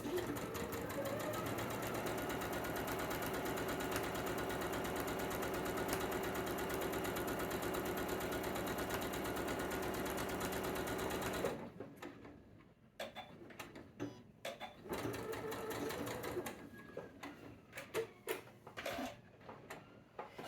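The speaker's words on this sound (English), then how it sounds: "drop my needle at the top corner. Just do a couple of stitches backwards to lock it" A sewing machine stitching quilt fabric runs loud and steady for about eleven seconds, then stops, followed by scattered clicks and handling noises.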